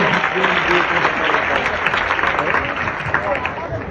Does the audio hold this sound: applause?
yes